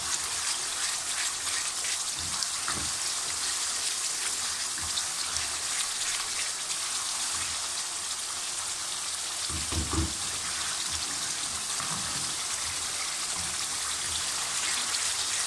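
Mutton kofta sizzles steadily in hot oil in a pan, a continuous dense crackle with no talking, broken now and then by soft low bumps.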